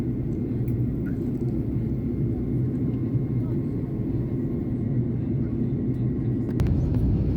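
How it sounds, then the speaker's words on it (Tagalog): An airplane lands at Madina, heard from inside the cabin as a constant loud engine roar and rumble. A sharper jolt near the end marks touchdown. "Landing na yung eroplano."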